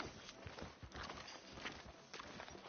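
Horse hooves in Red Dead Redemption 2 clip-clop at a steady walking rhythm, faint and soft amid a noisy game background.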